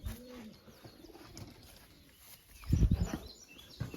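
Pigeons coo close by, with a few soft low coos early on and a louder burst of throaty cooing near the end, over a quiet background.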